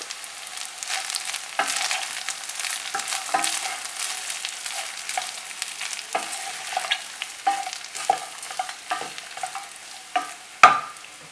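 A spoon stirs pepper garlic rice in a frying pan with pepper powder and coriander leaves, giving steady scraping and soft sizzling with repeated clacks of the utensil against the pan, close and clear with no talking.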